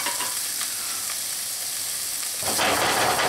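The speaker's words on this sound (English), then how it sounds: "And the scoop, onions, right to the pan." Chopped onions hit a hot pan in a chef's cooking demonstration, a steady close frying hiss that swells louder and fuller as they land near the end.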